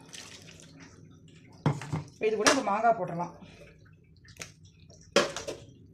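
Rice washed with water in a vessel makes a few short splashing sloshes, spaced apart, heard close up beneath a person talking.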